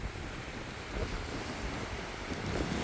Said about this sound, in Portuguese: O único problema agora é o vento.